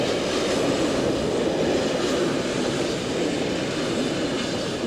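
An AE46 electric locomotive hauling a train on the Gotthard railway rumbles past close by, a loud, steady roar of wheels and running gear that fills the whole stretch without letup.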